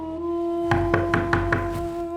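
Five evenly spaced knocks on a door in a Pakistani drama scene, firm and fairly close, sounding over a steady humming background tone with no talk.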